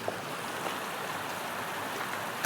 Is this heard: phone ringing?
no